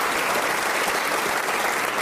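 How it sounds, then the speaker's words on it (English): Steady, full audience applause at a comedy show, a dense wash of many hands clapping continuously without any talk. "Round of applause for Andy as he goes off."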